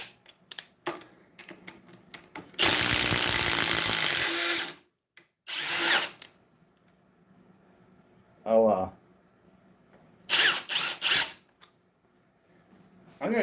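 A Ridgid cordless power tool runs in a few short bursts, one long loud whir and several brief ones, with handling clicks between and someone talking.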